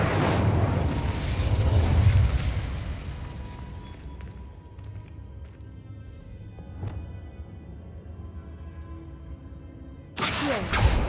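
The Incendio fire spell in Hogwarts Legacy is cast as a loud burst of fiery roar that slowly fades into a quieter rumble, then another sharp blast erupts near the end.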